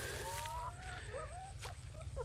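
Laying hens in Thailand cluck and murmur in short, uneven bursts, a few birds close by with quiet chirps, set against a low background rumble.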